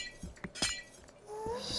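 Glass breaking in a cave-exploring video game, a few sharp clinks and shattering bursts in quick succession, followed by a brighter chiming tone that rises and holds.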